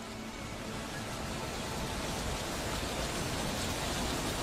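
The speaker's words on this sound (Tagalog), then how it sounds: "Bumuhos na naman ang ulan at sa pagkakataong yon hindi na kumikidlat pero malakas pa rin ang hanging hatid nito." Heavy rain pours down in strong wind with no lightning, a loud, constant hiss of broadband noise that fills the whole stretch without a break.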